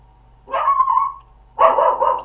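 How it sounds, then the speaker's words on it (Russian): A small pet dog barks twice indoors in an apartment, each bark a sustained yapping burst about a second long, loud and close, separated by a short pause, with no speech. "Собака лает."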